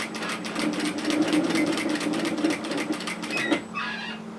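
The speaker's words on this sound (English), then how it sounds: "we're going to sew as far as the first notch, and make sure your seam allowance is perfect" Sewing machine stitching a seam on a bias slip nightgown, a close, rapid run of needle clatter with a humming motor underneath, stopping abruptly just before the end.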